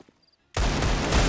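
Desert Eagle pistol fire in Counter-Strike: Global Offensive bursts in loud and dense after a short silence, the rapid shots running together into one continuous roar.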